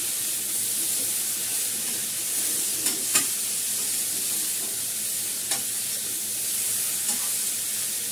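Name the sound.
spices and ginger paste being stir-fried in a pan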